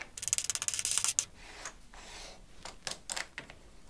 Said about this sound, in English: add a washer and a star knob